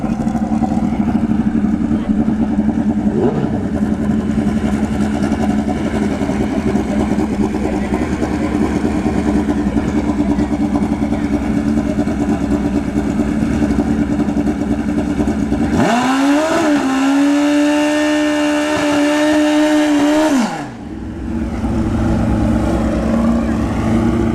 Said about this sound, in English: we got a custom Wreck-It bike here